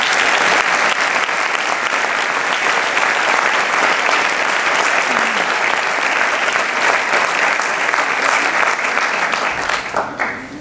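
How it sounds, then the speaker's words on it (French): Loud, sustained applause from an audience at a mayor's New Year greetings reception for residents and partners, dense clapping that carries on for about ten seconds before starting to fade. "je vous propose de les applaudir pour les encourager"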